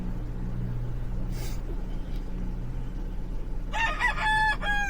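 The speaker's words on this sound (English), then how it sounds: "You got a chicken in there?" A chicken clucks and crows from inside a car trunk at the roadside, its short rising calls coming near the end over a steady low rumble of idling engines and passing traffic.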